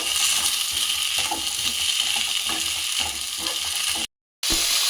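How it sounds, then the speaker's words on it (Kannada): A constant crackling sizzle of green gram frying in hot oil until crisp, close and fairly loud, with a brief stirring clink and a short cut to silence near the end. "ಇದು ಕ್ರಿಸ್ಪಿ ಆಗೋವರೆಗೆ ನಾವು ಫ್ರೈ ಮಾಡಬೇಕು"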